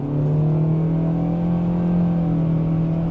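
A 2019 Toyota Corolla Hatchback with a CVT transmission accelerates steadily from inside the cabin, a continuous droning engine whine with slowly rising pitch over road noise.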